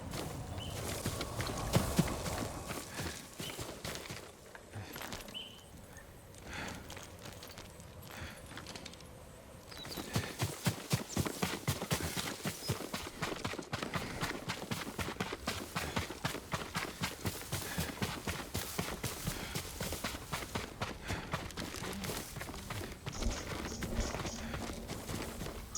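Horse hooves clip-clop steadily at a walking pace in Ghost of Tsushima, a continuous rhythmic trot that quickens into denser beats after a short pause, fairly quiet and without talk.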